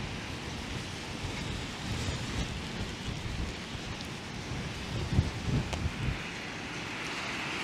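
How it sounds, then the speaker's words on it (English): Steady rain patters down on a city street in downtown Toronto, a constant hiss with faint background rumble and occasional louder splashes, no voices. "The rain seems to be letting up."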